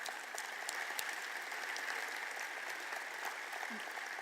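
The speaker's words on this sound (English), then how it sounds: "please give a round of applause for our chef and the great staff that we have here at McCormick Place" Crowd applause for the chef and staff at an event at McCormick Place in Chicago, dense sustained clapping heard from a distance, even and unbroken throughout.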